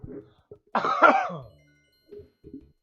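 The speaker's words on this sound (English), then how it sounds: "Trying to cough directly into the mic." A single loud, harsh cough up close, followed by a couple of faint throat noises and breaths.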